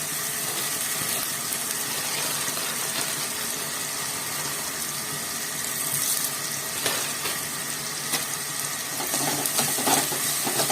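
Onions fry in a pan for a broad bean curry, giving a dense, steady close sizzle with occasional stirring scrapes over the continuous hiss.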